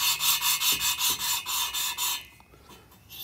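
Engine valve being hand-lapped with lapping compound on a suction-cup stick tool, giving a close, steady back-and-forth gritty rasping in rhythmic strokes about twice a second, rising and changing pitch before fading to quieter scraping.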